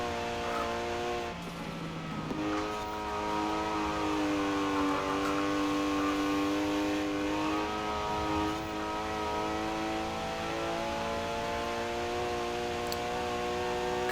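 Mid-engine Gruppe B rally car in Forza Horizon 4 holds a steady, loud engine drone across the whole clip, with harmonic pitch rising and settling as it shifts and pulls through a race.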